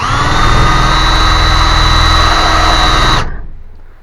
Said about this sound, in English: so let me try drilling on that